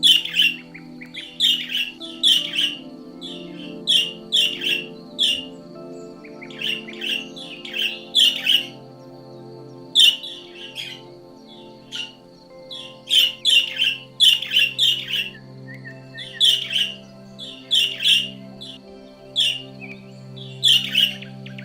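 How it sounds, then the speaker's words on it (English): Wild birds call and chirp in repeated bursts of sharp, high tweets and squawks, clustered in quick rhythmic series with short pauses between, fairly close and clear over a low background hum, with no voices. "a bird"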